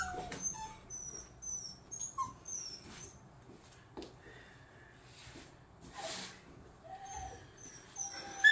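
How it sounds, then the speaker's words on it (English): A young pup whimpers and yips in short, high, thin bursts during an early training session, scattered across several seconds with quiet rustling between them and no talking. "He's a young pup, gonna go slow with this."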